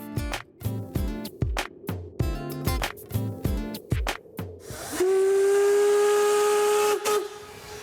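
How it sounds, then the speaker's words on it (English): A historic steam locomotive on the Harz narrow gauge railway in Germany's Harz Mountains chuffs in rapid rhythmic exhaust beats, then lets out a long loud steady whistle lasting about two seconds over a hiss of steam. "The historic steam locomotives are a tourist attraction in the Harz Mountains."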